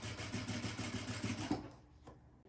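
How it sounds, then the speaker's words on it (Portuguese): A sewing machine stitches a bag's gusset to its front panel, a fast even mechanical chatter of needle strokes close by for about a second and a half, then stopping, followed by a couple of soft clicks. "E agora eu vou costurar para juntar o fole com a parte da frente da nossa bolsa."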